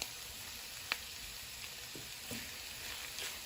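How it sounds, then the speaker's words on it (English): A pan of pasta sauce for the Daniel Fast simmers and sizzles faintly under a constant soft hiss, with a few small pops and clicks from stirring. "I'm just going to let that simmer for a few minutes"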